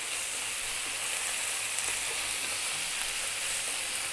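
Fresh chili and homemade curry powder sizzle in a hot pan for chicken potato curry, a steady, dense hiss that carries on evenly and close throughout with no voices.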